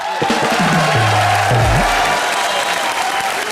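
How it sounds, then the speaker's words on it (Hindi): Studio audience applause and cheering for guests on a comedy show, dense continuous clapping with crowd noise, while a low voice briefly sounds over it. "जोरदार तालियां हो जाए हमारे गेस्ट के लिए"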